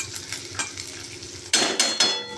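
Onions fry in a pan as a spatula stirs and scrapes, with light sizzling under sharp metal clanks that grow louder and more frequent toward the end.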